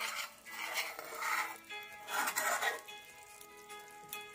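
Ghee and garam masala being stirred into a cooking mixture in a pan for vegetarian Bengali chhanar dalna, with a soft sizzle and repeated scraping strokes of a spoon against the pan, close and steady.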